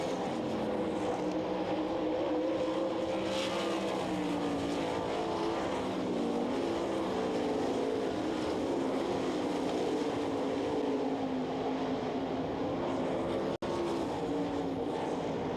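A field of 360 sprint cars racing at the Knoxville Nationals dirt track, a continuous distant roar of engines droning and swelling as the pack circles, steady and unbroken with no voices.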